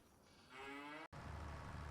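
Cows mooing on a farm in the video game Farming Simulator 25, one drawn-out, close moo that cuts off abruptly, followed by a loud, steady noise.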